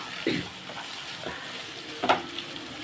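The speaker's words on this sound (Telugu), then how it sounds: "క్యారెట్ త్వరగానే వేగిపోద్దాయి" Carrot pieces fry in a pan, giving a steady, soft sizzle. A few brief stirring scrapes rise above the hiss, close by and at moderate volume.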